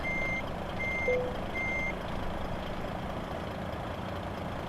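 A truck backs up in Euro Truck Simulator 2, its reversing alarm giving three steady evenly spaced beeps over a low idling diesel engine hum, fairly quiet and alone.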